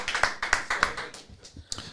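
A few hands clap in short, sparse bursts, about four quick claps near at hand and then fading into a couple of stray taps.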